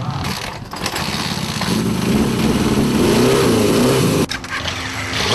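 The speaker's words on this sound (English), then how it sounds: "That's a good running bike right there." A motorcycle engine is running and revving loudly and up close, its rough mid-range growl rising in pitch through the middle before a brief dip and recovery.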